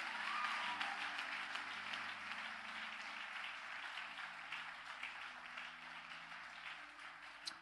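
A church congregation applauds in a steady, even wash of clapping, fairly faint and distant, lasting throughout and tapering slightly toward the end.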